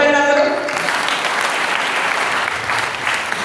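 Church congregation clapping together, dense continuous applause close and loud, starting just after a brief voice at the very beginning.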